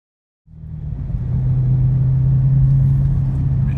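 A car engine runs high and steady after a sudden start, a loud continuous rumble with a droning hum, revving higher than normal amid a fault with the battery warning light on and the temperature high.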